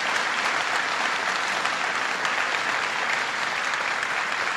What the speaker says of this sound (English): let's give our great governor a round of applause for his fantastic leadership.